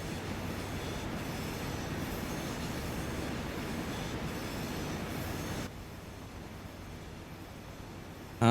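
A train in Transport Fever 2 runs steadily with a continuous rumble and wheel noise, heard from the driver's cab view. The sound drops abruptly to a quieter level near the end.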